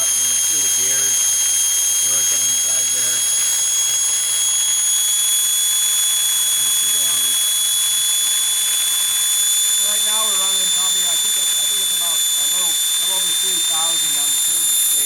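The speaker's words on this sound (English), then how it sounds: "And we can take a look at the turbine here." A small home steam turbine spinning with a steady high-pitched whine and hiss, several sustained tones drifting slightly in pitch, loud and close while a person talks over it throughout.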